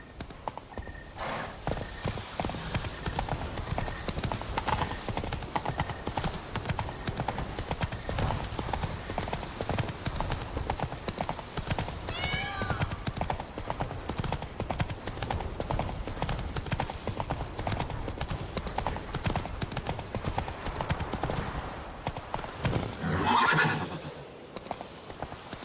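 A horse gallops continuously in the video game The Witcher 3, rapid hoofbeats in a dense rhythm under game ambience, with a whinny near the end and brief voices calling out.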